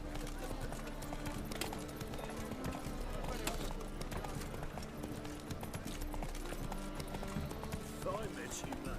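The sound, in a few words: horse Roach trotting in video game The Witcher 3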